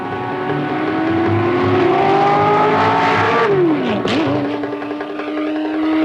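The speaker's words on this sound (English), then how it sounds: "This is the fantastic Ford GT." A Ford GT race car engine roars loudly and close, holding a rising drone before dropping sharply as it shifts or lifts off, then settling into a steady buzzing note.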